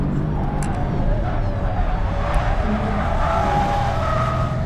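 Tyres squeal steadily as a car slides through a corner on a race track. The continuous screech sits over loud engine and road noise and lasts throughout.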